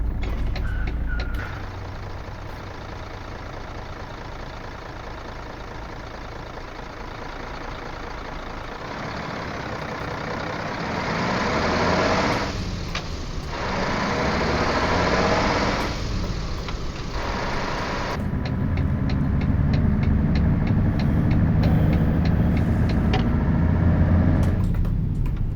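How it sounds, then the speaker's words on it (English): Steady truck engine drone from Euro Truck Simulator on the autobahn, continuous low rumble that swells louder in the latter half, with faint mechanical clicks over it. "Hopefully this engine noise isn't drowning out my voice."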